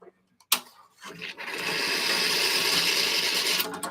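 A coffee grinder grinds beans for an espresso shot, starting after a sharp click and a brief burst, then a steady loud whirring grind that runs to the end.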